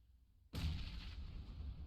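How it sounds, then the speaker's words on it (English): A grenade explodes inside a building in the battle-royale game PUBG during an esports competition, bursting suddenly out of near silence into a sustained, faint rumbling boom that lingers to the end. "Honestly, how many nades have they thrown in that top floor?"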